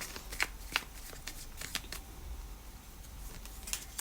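Soft, continuous riffling and patter of tarot cards being shuffled by hand, close and quiet, with a few crisper snaps of cards slapping together.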